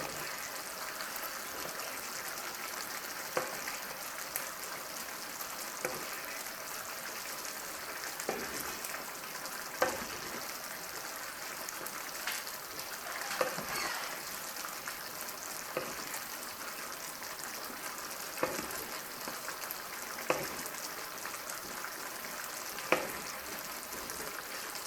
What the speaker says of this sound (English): So I'll let the fish cook a bit on the other side, and then I'm going to turn it.